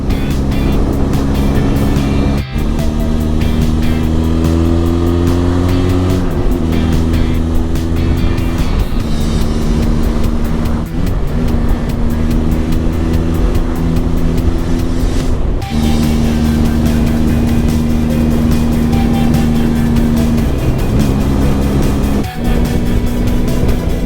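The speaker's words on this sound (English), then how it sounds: "Amazing how quickly you become so content riding on the motorbike." A motorbike rides through the twisties of the Black Mountain Pass in Wales, its engine droning loudly and steadily with rising and falling pitch through gear changes, wind rush underneath throughout.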